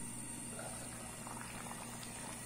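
Egg moqueca with tomato, bell pepper and onion simmering in a covered pan, giving a faint, steady bubbling hiss with soft popping, quiet and continuous, with no talking.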